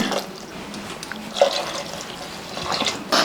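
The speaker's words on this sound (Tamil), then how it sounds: "இப்போ நான் வந்துங்க ரெண்டு டம்ளர் தண்ணி சேர்த்துருக்கேங்க" Water is poured into a pressure cooker holding kuruma masala, a close, moderately loud splashing and trickling that rises in bursts and then settles.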